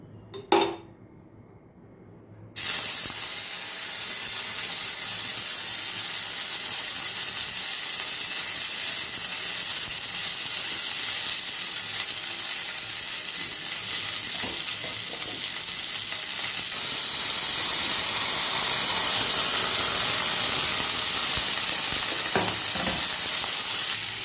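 Ghee sizzles and fries in a pan for pumpkin curry, a steady broadband hiss that swells after a brief quiet start, with occasional scrapes of stirring and a few clinks of utensil on metal.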